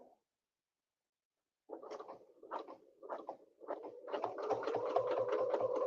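A sewing machine top stitching a snowflake ruler quilt runs in short bursts, then settles into a steady rapid mechanical patter, close and moderately loud.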